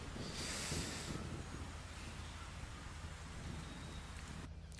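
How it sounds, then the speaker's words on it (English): Steady rainstorm ambience from the video game Tropico 3, a dense, even hiss of falling rain with a low rumble underneath, heard alone without speech. "Just a rainstorm."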